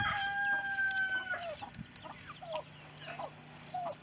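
Bantam chickens cluck inside a homestead coop, with repeated short clucks and a long crow-like call at the start, up close and steady with no talking.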